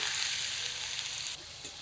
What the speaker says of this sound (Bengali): এই তেলে রসুনটা ফোড়ন দেবো রসুন একটু বেশি পরিমাণে নিয়েছি রসুনটা তেলে দিয়ে দিলাম